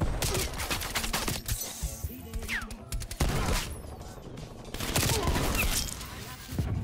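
Loud, dense automatic gunfire fills a Call of Duty Cold War match, with near and distant bursts overlapping continuously alongside other game sounds.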